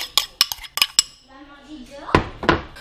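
Cutlery stirs sauce into mashed potatoes in a dish, giving a run of sharp, close metallic clinks and scrapes, then two louder knocks near the end, with a low voice murmuring briefly in between.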